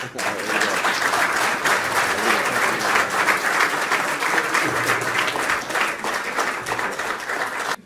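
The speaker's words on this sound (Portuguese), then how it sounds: "Podem bater palmas." An audience claps at a Portuguese debate session of the Clube dos Pensadores, with steady, dense applause sustained at fairly loud level for about eight seconds before cutting off.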